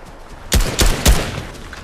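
A purple heavy gun fires in a video game, three loud booming shots about a quarter second apart, close and punchy over quiet background noise.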